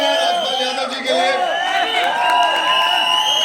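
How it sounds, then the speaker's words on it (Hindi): At a film trailer launch event, a loud crowd cheers and whoops with overlapping shouting voices, a dense continuous roar of excitement throughout. "जोरदार तालियां राजपाल यादव जी के लिए।"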